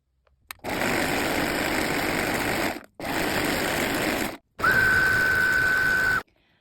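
A serger overlocking the side seams of a Prince of Wales check dress runs in three sustained bursts, each about one and a half to two seconds long, with brief pauses between them.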